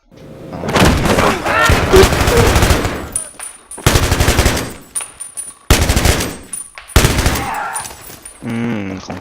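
Battlefield 3 machine gun fire comes in several loud, close bursts of rapid shots separated by short pauses. A faint voice can be heard near the end.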